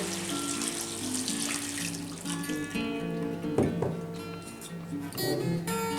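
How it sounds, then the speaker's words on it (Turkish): Water pours from a tap over salted chestnuts in a kitchen, a steady close running stream with a few clinks and knocks of handling partway through. "Sonra su ilave ediyor."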